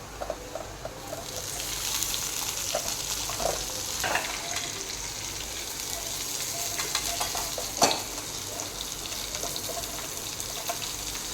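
Onion and garlic sautéing in oil with cumin and mustard seeds in a pan, a continuous moderate sizzle under repeated spatula stirring scrapes, with a sharper clatter near the end.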